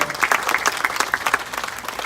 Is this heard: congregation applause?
yes